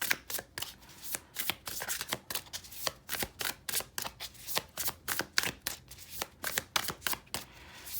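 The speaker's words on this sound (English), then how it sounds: "I feel very smooth when I shuffle the card." Tarot cards being shuffled in quick, crisp riffling bursts, close and steady in rhythm, with no voices.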